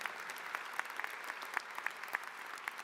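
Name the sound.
audience applauding at a graduation ceremony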